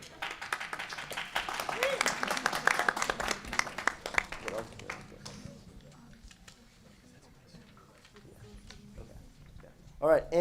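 Brisk clapping from an audience at a university pitch competition fills the first half, then fades away while a person keeps talking over the room.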